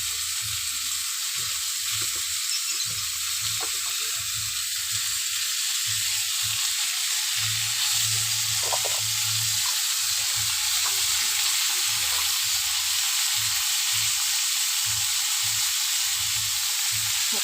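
Ground cumin sizzling in hot oil in a pan, a steady broad fry hiss with soft low stirring knocks throughout, no voices.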